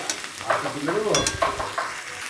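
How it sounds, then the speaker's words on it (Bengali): Spiced spring onion curry sautés in a pan, sizzling brightly as a spatula stirs and scrapes it in a few quick strokes, close and clear. "এটা অনেকক্ষণ ধরে কষতে হবে"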